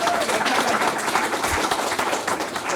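An audience at a literary reading with poet Kaveh Akbar breaks into applause. The clapping is a dense, even wash of many hands, sustained throughout at a fairly loud level with little else audible.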